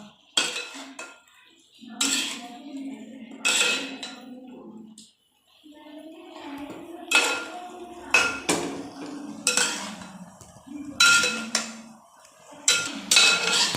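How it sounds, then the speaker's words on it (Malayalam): Food being stirred in a metal pot with a spoon, giving repeated clinking and scraping strokes in bursts. Someone talks between and over the stirring. "ഭക്ഷണമൊക്കെ രീതിയിൽ രീതിയിലൊന്ന് ഇളക്കി കൊടുക്കാം"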